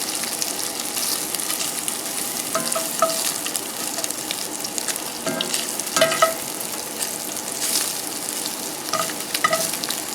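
Steady sizzling of Spam jambalaya in a pan with intermittent metallic scrapes and clinks of a metal spatula stirring against the pan surface, no talking.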